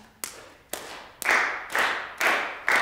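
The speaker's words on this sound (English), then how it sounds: "Before I play this, I want to ask you all to clap again." An audience claps in unison at a concert of Iranian rhythms: six sharp, evenly spaced group claps, each with a short room-filling decay, alone with no talk.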